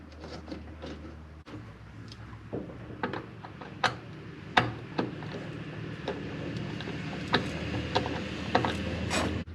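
A socket wrench with an extension tightens screws on a Club Car golf cart, giving close, irregular ratcheting clicks and metallic taps over a low background hum.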